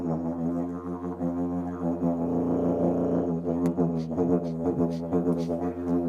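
An expensive didgeridoo played with continuous drone: a low, buzzing fundamental with shifting overtones and rhythmic vocal pulses, steady and close, no talking.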